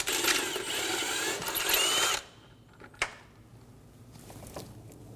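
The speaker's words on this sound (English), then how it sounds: "Using a 12mm socket, remove the 4 bolts for the throttle body." A power tool with a 12mm socket runs loudly for about two seconds backing out throttle body bolts on a 2008-2015 Scion xB 2.4L four-cylinder, followed by a few faint clicks and metallic taps.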